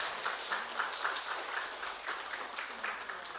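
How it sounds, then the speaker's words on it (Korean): A church congregation claps together during a Korean worship service. The applause is fairly close and steady and lasts a few seconds. "우리 격려의 의미로 박수 한번 드리도록 하겠습니다."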